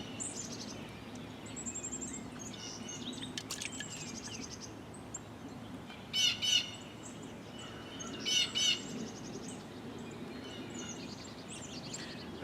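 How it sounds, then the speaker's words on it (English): Birds near their nest give agitated chirps and sharp calls, some in quick clusters and louder bursts, over a quiet outdoor background. "those birds are getting really upset"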